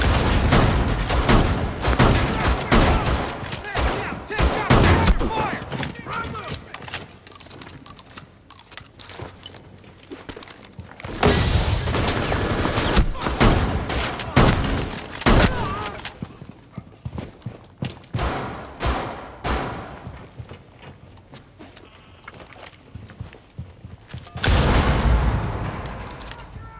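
Rapid bursts of gunfire in the tactical shooter Rainbow Six Siege, dense volleys rattling loudly in several clusters with brief quieter gaps between.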